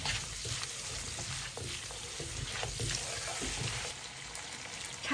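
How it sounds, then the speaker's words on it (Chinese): Pork ribs are stir-fried over high heat, giving a continuous frying sizzle with irregular scraping and stirring knocks from the pan, close and steady throughout. "开大火翻炒均匀"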